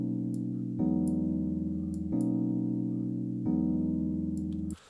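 Sustained synth chords from a Rode instrument change four times in a steady looping progression, each chord held for over a second, clean and alone with no voices.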